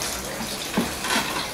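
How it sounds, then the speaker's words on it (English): Cold water pours from a tap or vessel onto palm fronds while preparing Atama soup, a steady broadband splash rising in two brief louder gushes. "so we're adding cold water,"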